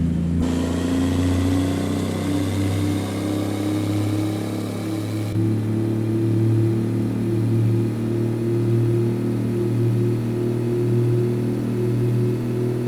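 A Kenworth W900 flat-top truck's heavy diesel engine in American Truck Simulator, modded, revs and labors steadily uphill, a deep rumbling drone with a rising turbo whine, loud and close throughout with no talking.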